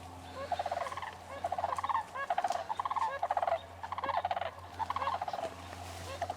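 Sandhill cranes calling far off, rolling bugling trills repeated in rapid bursts over a steady low hum outdoors, with no talking.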